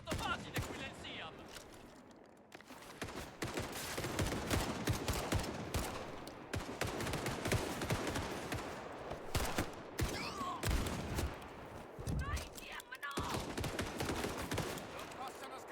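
Gunfire rings out in the Indiana Jones and the Great Circle video game as a dense run of sharp, loud shots and bursts, sometimes in rapid strings. Someone talks over the shooting at times.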